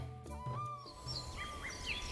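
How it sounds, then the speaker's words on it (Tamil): Birds chirping before sunrise in a quiet rural setting, with several bright calls and short whistled notes over a soft steady background tone. "பறவைகளோட சத்தம் தான் அவனுக்கு அலாரம் சத்தம் மாதிரி."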